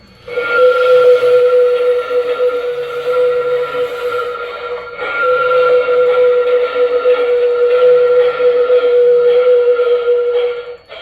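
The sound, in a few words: LGB Mogul model locomotive flange squeal sound, Zimo decoder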